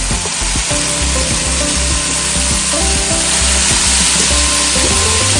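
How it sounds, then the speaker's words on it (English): Chopped cabbage hits a hot frying pan of saltfish and sizzles loudly and steadily, with dense crackling frying noise throughout and faint scraping of a utensil stirring underneath. "Now, get your cabbage and go ahead and add it in."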